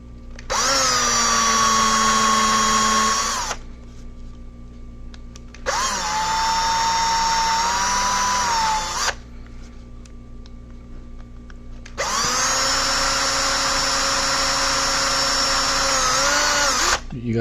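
A power drill whines loudly in three long bursts, each a few seconds, separated by short pauses, its pitch dipping slightly under load, drilling into a 1973 Oldsmobile 442 police cruiser during restoration.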